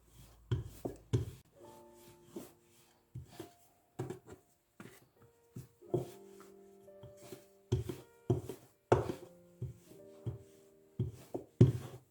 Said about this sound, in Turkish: Yaptığımız bezeleri hafif bastıraraktan merdane ile açıyoruz.